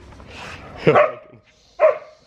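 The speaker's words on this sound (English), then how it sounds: "Meet the new doggy" A newly arrived dog gives two short, sharp barks about a second apart, close and fairly loud, with faint background rustle before them.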